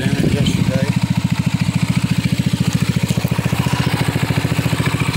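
Rebuilt Trailmaster XRS 150cc buggy engine with a big block kit runs steadily at a fast, even idle, a loud close putter with a brief rev near the start.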